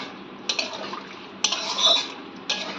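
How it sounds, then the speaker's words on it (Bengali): Metal spoon scraping and knocking in a pan while chickpeas are stirred and fried with a spice masala for chole: three sharp clinks stand out over a low, steady background, close by and moderately loud. "ভালো করে ছোলাটাকে কষিয়ে নেবো আরও একবার।"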